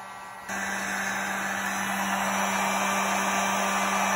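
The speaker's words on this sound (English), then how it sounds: "to get them set you just use a heat gun, making sure that they're positioned correctly." A heat gun switches on and blows with a steady, loud, close hiss and a constant hum while shrinking constant-tension clamps onto radiator hoses.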